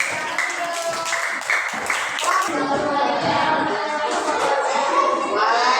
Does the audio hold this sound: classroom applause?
yes